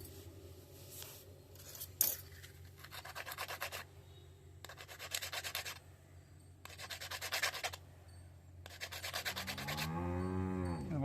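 A small mercury-tin rasamani bead being rubbed hard on a stone, giving repeated bursts of gritty scraping strokes separated by short pauses, close and fairly loud with no talk.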